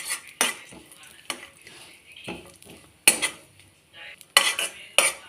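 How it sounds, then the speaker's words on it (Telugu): Dry fruits and coconut powder frying in ghee for rusk halwa, with a spoon clattering against the pan in sharp, irregular knocks and scrapes over a faint, low sizzle. "నెయ్యి వేసుకొని డ్రై ఫ్రూట్స్, కొబ్బరి పొడి ఇలా వేయించుకోవాలండి నెయ్యిలో"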